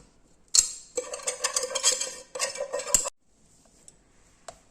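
A spoon mixes savoury tikhat ladoo mixture in a metal vessel with a steady run of quick scraping clinks for a couple of seconds, close and without talk, then fading to near silence with a faint tick.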